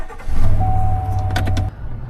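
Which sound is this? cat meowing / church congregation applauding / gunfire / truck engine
truck engine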